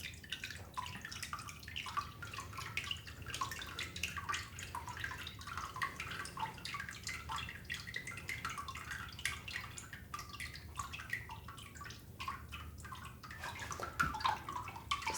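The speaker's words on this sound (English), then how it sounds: "we're gonna let all that water drip out." Water dripping and trickling steadily from a papermaking screen of fungi pulp fibers, a continuous close patter of small drops with no talk.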